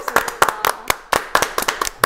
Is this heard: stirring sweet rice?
no